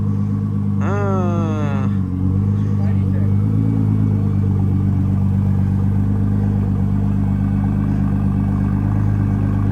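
A sports car engine switched into race mode sends out a deep, steady rumble with a quick rising-and-falling rev near the start, while people talk over it.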